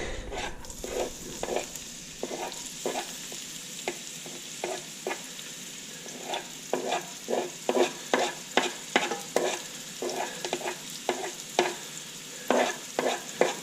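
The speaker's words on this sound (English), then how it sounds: "We're gonna add some onions to saute." Onions sautéing in a hot pan for smoked mushroom soup, constant sizzle under brisk, rhythmic spoon scrapes that quicken and cluster in the second half.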